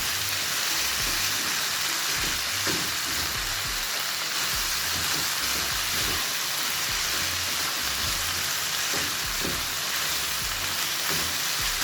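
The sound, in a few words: cabbage, carrot, corn and bell peppers stir frying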